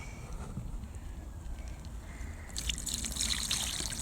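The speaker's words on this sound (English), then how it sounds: "Use this to scatter the water around." Water is scattered and trickles over toy cars in a toy car wash, with a soft, close dribble that grows into a brighter splashing patter partway through.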